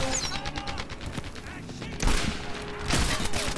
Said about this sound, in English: I'm gonna test the no-scope abilities of this gun